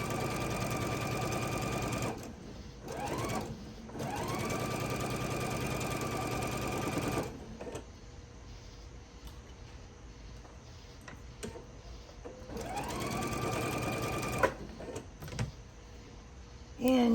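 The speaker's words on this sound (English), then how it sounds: "So now sew these two sections together" A sewing machine stitching two fabric sections of a Christmas tree table runner together, running in two steady whirring bursts with quiet pauses and small handling clicks in between.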